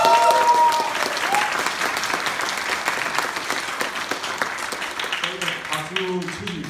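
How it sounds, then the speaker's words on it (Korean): A large audience of roughly ten thousand people claps steadily at a lawmaker's public briefing event, a dense, sustained wash of applause that holds for several seconds, with a voice speaking faintly toward the end. "만여 분 박수를 한번 쳐주세요."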